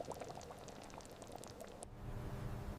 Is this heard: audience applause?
no